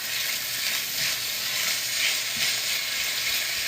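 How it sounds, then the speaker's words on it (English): Garlic and onions sautéing in bubbling oil while a spoon stirs and breaks up clumps, a loud continuous sizzle with faint scraping underneath. "I'm gonna give this a good stir."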